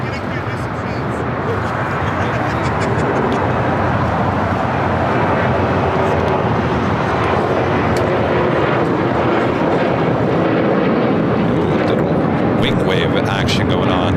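Airplane taking off at LAX, a loud sustained roar of jet engines at full power filling the whole stretch, with radio chatter faintly underneath.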